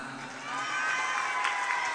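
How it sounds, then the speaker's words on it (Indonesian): A crowd of children cheers and whoops for the regent, the noise swelling after a brief moment and holding steady and loud, with scattered clapping underneath. "Bupati kita yang ganteng, tepuk tangan."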